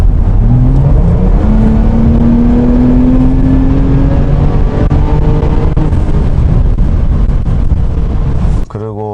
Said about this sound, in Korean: 그 엔진룸에서 이제 투과돼서 실내로 들어오는 엔진 소리가 너무 스포티하고